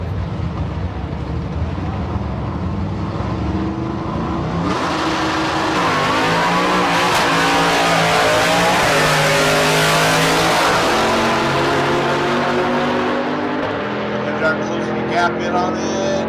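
Drag racing at the Street Car Super Nationals in Las Vegas, a 2015 Cadillac CTS-V and a 2001 Camaro roaring down the strip with loud, sustained engine revving and rising pitch, while an announcer talks over it.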